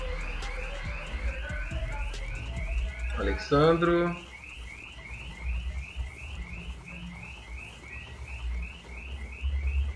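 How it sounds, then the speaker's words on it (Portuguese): A car alarm goes off just outside, cycling through a repeating electronic warble pattern at moderate distance, with a voice speaking briefly and low background rumble. "O cara disparou o alarme bem aqui na frente."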